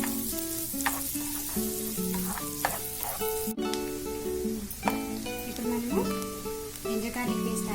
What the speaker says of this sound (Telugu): సన్నగా తరిగి పెట్టుకున్న ఆనియన్స్ వేసుకున్నాము. ఒకటి తీసుకోవాలి, మీడియం సైజ్. బాగా ఫ్రై చేసుకున్నాము.